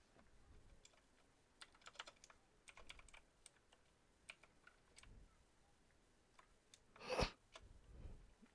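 Quiet, close typing on a computer keyboard sounds as scattered clicks and short irregular runs of keystrokes, ending with a louder clack, with no talking.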